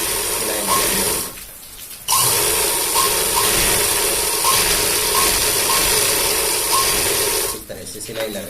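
An electric sewing machine stitching the waistband of a pair of trousers runs in a loud, steady mechanical whir with rapid ticking, stopping briefly for a pause and then restarting.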